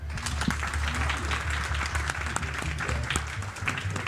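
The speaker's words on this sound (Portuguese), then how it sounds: "Odilon Esteves, palmas, por favor." Audience applause at a tribute event honoring a poet, steady and dense throughout with a low hum underneath, no speech over it.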